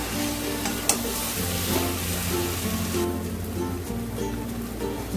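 Pea dal with jute leaves and jackfruit seeds, sweetened with sugar, being stirred in a pot: a steady close sizzle and bubbling with occasional spoon scrapes, continuous and moderately loud, with no talking.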